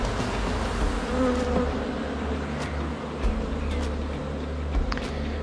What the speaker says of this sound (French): on voit déjà que les abeilles s'affairent autour des cadres, donc l'essaim est déjà fixé au bout de quelques minutes